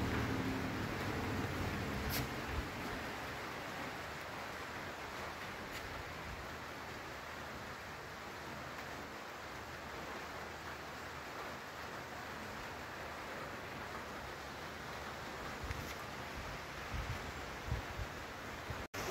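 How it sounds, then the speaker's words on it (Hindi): Heavy rain falling steadily on a hotel street in Georgia, a dense continuous hiss with scattered drops and splashes, fairly faint and even throughout, no voices. "आप देख सकते हैं बारिश को कितना खूबसूरत लग रहा है"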